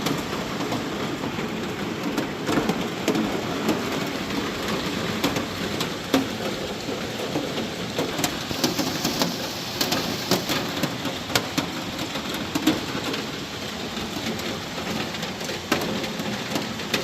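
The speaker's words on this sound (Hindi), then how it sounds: "ये जो ज़ोरदार बारिश हो रही है झमाझम, ये सुबह से नहीं रात से हो रही है" Heavy overnight rain pours down steadily in Kolkata, a dense, loud, even hiss of drops with scattered sharper splashes, heard alone without any talking.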